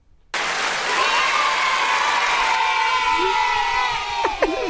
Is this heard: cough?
no